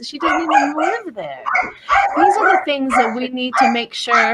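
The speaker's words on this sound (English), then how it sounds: "Sorry about the dog." A dog barks and yips in the background while someone speaks continuously over it, the barking partly masked by her voice.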